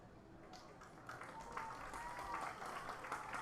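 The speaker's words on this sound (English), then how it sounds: "And the crowd is applauding." A crowd at a high school varsity football game applauds from the stands, steady distant clapping building slightly, under a faint voice.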